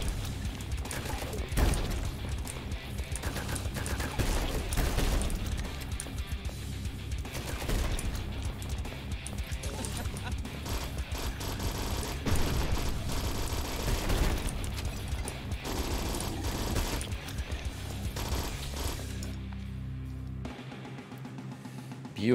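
A pistol fires repeatedly in the Nightmare Reaper video game, steady sharp shots over a dense, busy mix of game effects and music, with a voice talking over parts of it.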